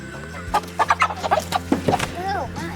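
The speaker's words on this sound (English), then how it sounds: "3 hens and 2 roosters" Several meat chickens, hens and roosters, cluck and squawk close by in short, irregular bursts while being caged for travel, with a low steady hum underneath.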